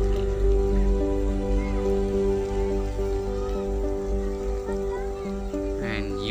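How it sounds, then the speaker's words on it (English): Rain falls steadily on a village in Sindh, a continuous hiss underneath strong sustained tonal hums, with a brief warbling sound near the end. "Now you can look outside, it's raining and a wonderful weather is going on and it's raining."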